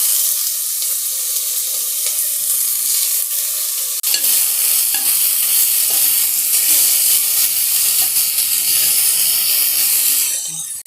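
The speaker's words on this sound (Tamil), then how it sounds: "இதை நல்லா வதக்கி விடுங்க." Tomatoes and onions sauté in a little oil, with a bright, loud sizzle that jumps sharply after a few seconds and stays steady, broken by soft stirring scrapes.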